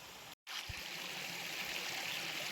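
A small stream runs beside the Aare waterfall near Nagalapuram, its steady, close rushing flow filling the scene without a break except for one brief dropout near the start.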